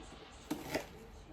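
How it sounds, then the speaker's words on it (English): A knife chops through food on a cutting board while meatball and spaghetti ingredients are prepared, giving two quick, soft chops close by in a quiet kitchen. "and just start chopping it up"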